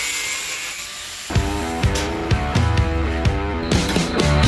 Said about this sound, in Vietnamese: Tiếp theo là đoạn sắt tròn phi 12 khác, mình sẽ cắt lấy chiều dài là 6 cm.